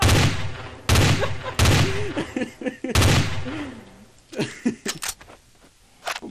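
Bursts of gunfire in a video game crack out in quick succession, loud and close, with people talking in German between and over the shots.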